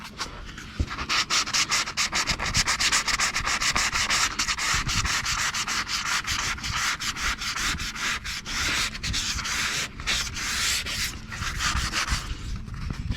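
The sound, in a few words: lightly sanding car rocker panel before spray painting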